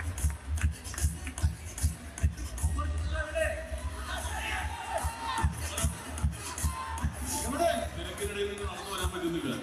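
A dense crowd at a film event, loud and close, with continuous shuffling, murmuring babble and scattered shouts and cheers, and voices talking throughout.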